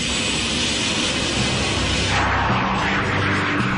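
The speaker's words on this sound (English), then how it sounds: "American and coalition aircraft continued to attack Iraqi targets, including Saddam Hussein's palaces" A military jet roars loudly overhead during air strikes on Iraqi targets in the Gulf War, its engine noise steady and then sweeping brighter as it passes close by.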